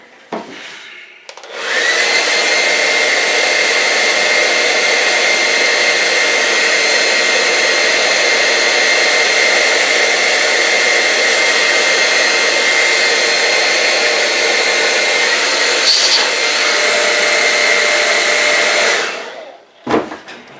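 A hair dryer drying paint on a scale model switches on and blows as a loud, steady whoosh for about eighteen seconds before cutting off, close to the listener.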